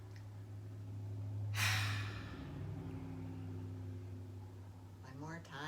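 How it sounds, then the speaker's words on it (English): A deep yoga breath drawn in and let out as a single long, loud, close, breathy rush, with a steady low hum beneath and faint voice-like sounds at the end. "Inhale and exhale."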